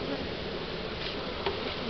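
Honey bees buzz steadily and close during a beehive inspection, a dense continuous drone with small swells in intensity and no talking.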